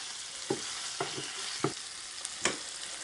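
Garlic frying in butter in a pan while cooking butter-grilled lobster, a quiet steady sizzle with several soft stirring clicks spaced about every half second.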